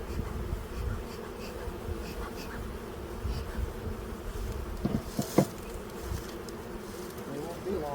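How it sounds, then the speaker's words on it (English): Honeybees swarm and fly around outside a hive box in spring, a continuous close buzzing drone with a few brief knocks and bumps. "all these bees that are on the outside, they'll fly around, they'll make their way back inside the box"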